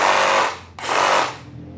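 A compact Makita JR188D cordless reciprocating saw runs in two loud, steady bursts with a brief drop between them. It is heard close up with no talking.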